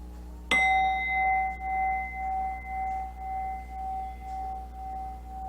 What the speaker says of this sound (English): Alrighty, your next chime